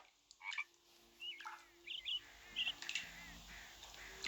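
A frog gives a series of short, chirpy croaks, about half a dozen spaced unevenly over a few seconds, faint and alone against a quiet background.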